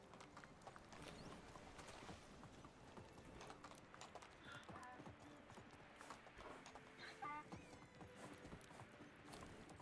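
A donkey's hooves clip-clopping over rocks in a survival building game, a steady irregular patter of hoofbeats close by under low ambient game noise.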